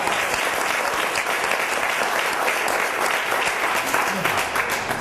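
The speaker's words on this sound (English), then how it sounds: "You can clap for that." Audience at a Capitol Hill event applauding, a dense steady wash of clapping that holds at even loudness throughout, close and full, with no speech over it.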